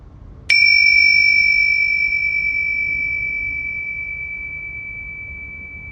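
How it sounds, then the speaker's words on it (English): A meditation bell struck once during a kundalini yoga session, a sharp clear strike followed by a long pure tone that fades slowly over several seconds, close and alone. "listen to the sound of the bell from the point between the eyebrows and see if you can feel the vibration of the bell"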